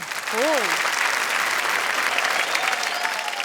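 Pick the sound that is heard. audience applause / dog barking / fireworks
audience applause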